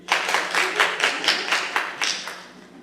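An audience at a school play claps, a brief, moderately loud run of clapping from a small group, with distinct pulses of hands roughly twice per second, fading toward the end.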